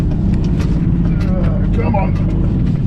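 A 4-wheel drive vehicle with its wheels spinning as it crawls along a rough, bumpy track, a loud steady engine rumble close up, with a voice speaking briefly over it.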